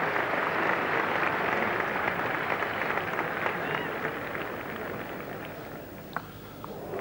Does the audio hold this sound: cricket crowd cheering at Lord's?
yes